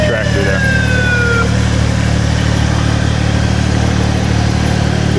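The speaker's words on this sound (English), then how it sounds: "that looks more like a hydrostatic tractor there" A hydrostatic riding lawn tractor rolls along in the Barley Days Parade in Greenwald, Minnesota, its small engine droning steadily and fairly close over constant outdoor background noise.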